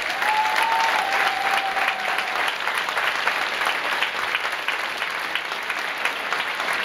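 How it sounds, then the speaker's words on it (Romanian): Audience applause after a dance performance at a school show, sustained dense clapping from a crowd that holds steady for several seconds and then slowly thins. "o plecăciune de final, de mulțumire pentru aceste aplauze minunate."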